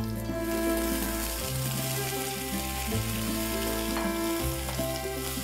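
Shelled green peas hit hot oil with slit green chillies and curry leaves in a pan, giving a loud, continuous sizzle and crackle close up.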